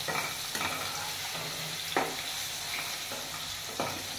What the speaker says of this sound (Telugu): ఇప్పుడు నేను కాకరకాయ స్టఫింగ్ ఇందులోకి వేసేసుకుంటున్నానండి.